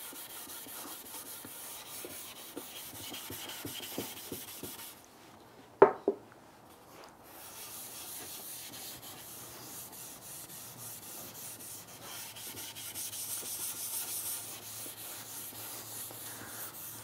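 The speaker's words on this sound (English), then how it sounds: "we'll put some tung oil on and we'll just watch the colours pop" Tung oil is rubbed by hand into the timber of a foot stool. Soft, faint wiping and rubbing continues close by, broken by a couple of sharp knocks around the middle, with no talking.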